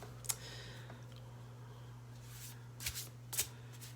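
Shaman's Dream oracle cards are shuffled by hand in a quiet room, giving faint soft riffles and a few light clicks against a low steady hum.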